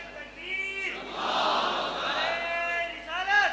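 Crowd of men at a shrine gathering chanting religious slogans in unison, loud, sustained voices rising together over roughly three seconds, with shouted calls at the start and end.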